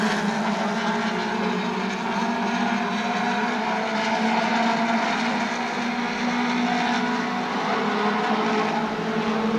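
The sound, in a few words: super stock race cars passing on speedway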